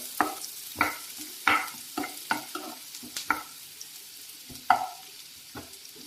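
Cabbage, onions and curry leaves fry in oil for egg fried rice while a spatula stirs them in repeated sharp scrapes about every half second over a low sizzle.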